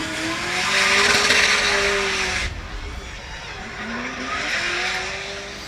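A drift car at a DriftFrance 2024 competition run, its engine wailing loudly as revs rise and fall, with tires squealing and skidding across the track before a gearshift drop and renewed engine howl.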